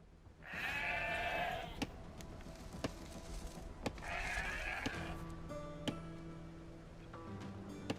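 Two drawn-out sheep bleats a few seconds apart in Age of Empires II: Definitive Edition, clear and moderately loud, over a quiet electronic hum with occasional clicks and tones.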